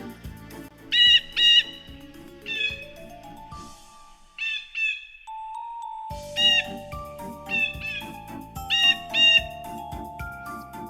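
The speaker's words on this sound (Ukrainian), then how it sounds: "Це голос Сойки." A Eurasian jay gives scattered calls, some sharp and squawking and some drawn out and mewing, over soft background music, with a brief quiet gap midway.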